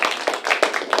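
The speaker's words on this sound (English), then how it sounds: "Give a round of applause for Hans." A small audience claps at a casual music show, quick close hand claps that fill the whole moment, loud and alone without talk.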